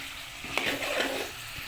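Chicken being sautéed and browned in a pan gives a soft, steady sizzle with a couple of faint scraping stirs, low in level and heard alone.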